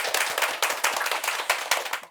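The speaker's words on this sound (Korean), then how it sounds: "오늘도 우리를 묵시록의 세계로 더 가까이 이끌어주신 신부님께 큰 박수 부탁드리겠습니다." A small group claps close by for a priest after a talk on the Book of Revelation, rhythmic and fairly loud, with the claps falling into a loose, pulsing beat.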